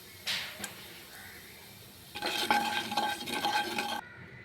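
Whole cumin and whole garam masala hit hot oil with a short crackling burst, a quiet pause, then a denser sizzle and stirring of spices in the pan for about two seconds before it cuts off.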